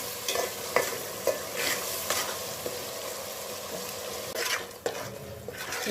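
Ginger garlic paste fries in a wide pan for a korameenu fish curry, a close continuous sizzle with repeated scraping strokes of a stirring spoon and no voices.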